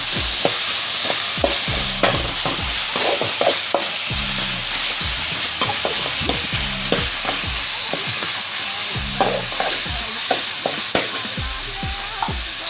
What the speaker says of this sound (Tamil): ஒரு 2 நிமிஷம் நல்லா வதங்கிட்டுங்க